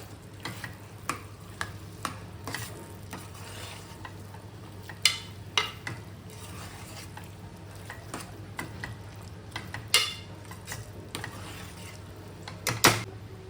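A spoon stirs boiled whole chickpeas into a samosa filling in a pan, making faint, irregular scraping and tapping strokes over a low, steady background hum.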